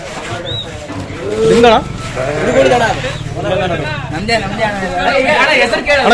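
Lambs bleat repeatedly at a village sheep event in Nyamathi, wavering calls close by over steady crowd chatter and people talking.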